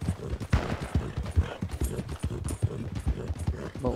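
Hooves of a horse in Red Dead Redemption 2 clopping in an even, repeating gait, fairly close, with light voices in the background.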